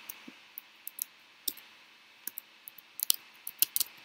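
Keys tapped on a computer keyboard while writing Unity code, quiet irregular clicks in small clusters, some single and some in quick runs, over a faint steady background hum.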